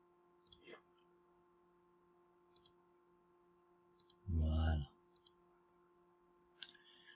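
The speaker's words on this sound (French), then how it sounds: "je vais là, je clique et je clique, et tout est noir" Computer mouse clicks while working in CAD software: a few sharp, faint, separate clicks spaced over several seconds against a low electrical hum, with one brief muffled bump in the middle.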